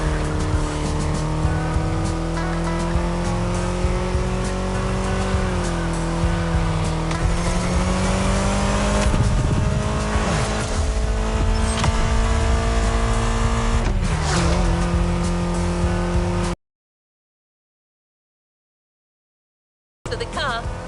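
A Ferrari 308 GTS driven in a PS5 racing game in Hawaii, with a loud, steady engine drone shifting pitch through gear changes, tire squeals in places, then a sudden cut to silence before the engine returns.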